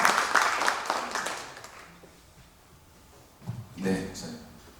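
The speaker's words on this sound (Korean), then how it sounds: "박수 마음껏 치셔도 됩니다" Applause from a church conference audience on its final day: a dense wash of clapping at the start that dies away, followed by voices speaking.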